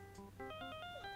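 A cell phone ringtone chirps out a bright, melodic electronic tune in the Phoenix Wright: Ace Attorney video game, clear and upfront with no talking over it.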